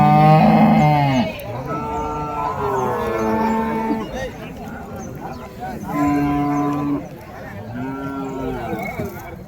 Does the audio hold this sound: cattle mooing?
yes